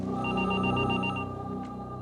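A telephone rings in a hotel, a steady electronic ring with a repeating high tone that holds for about two seconds, fairly close and with no talking over it.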